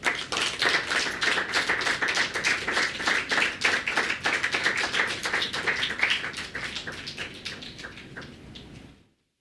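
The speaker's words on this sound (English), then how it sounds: "We clap again." An audience at a poetry reading applauds with brisk, even clapping that holds steady for several seconds, then thins and fades out to silence.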